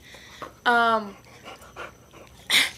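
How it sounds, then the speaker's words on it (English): A puppy pants quickly at close range in short breathy bursts, with a brief whimpering yip and a person talking nearby. "Say hello to Dane, Crystal's puppy."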